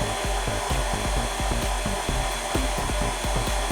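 An electric stand mixer with a wire whisk attachment whirs steadily and loudly, its motor hum carrying a rhythmic scraping churn as the whisk turns through a pizza dough mixture, with no talking.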